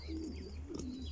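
A pair of low, throaty pigeon coos rise and fall close by in a Saudi Arabian village, over a steady hum.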